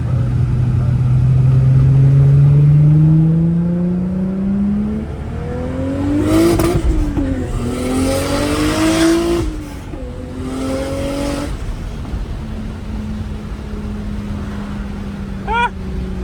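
A 1994 Toyota Supra engine revs up through several gears, its pitch climbing and dropping with each shift, loud and close, before settling to a steady hum.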